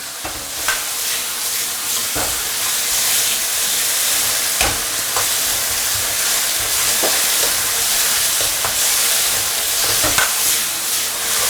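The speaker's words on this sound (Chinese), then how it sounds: "花椒爆香后下入这个鸡杂， 快速去翻炒它，这是最大的火" Chicken giblets are stir-fried with Sichuan pepper in a wok over the highest heat: loud, continuous close-up sizzling and hissing with occasional scraping knocks of the spatula, and no talking.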